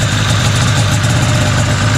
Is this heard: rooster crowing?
no